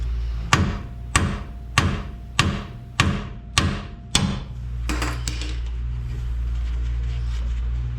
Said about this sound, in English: there is a flat spot on the steering knuckle, and I'm hitting it with the hammer.